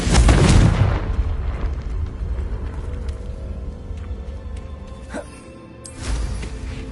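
A fiery blast from the Confringo spell in a Harry Potter video game bursts loudly at the start, followed by a rumbling, crackling tail that fades under ambient game noise, with a smaller burst near the end.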